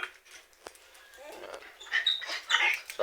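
A dog at home gives faint, high whimpering yelps that grow louder and more frequent toward the end, with a person talking over them.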